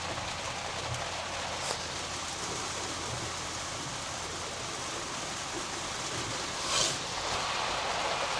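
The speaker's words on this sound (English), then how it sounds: "we got a pretty good little downpour here" Heavy rain pours steadily on a car during a downpour while driving, a dense, even hiss throughout with a brief louder splash or swish near the end.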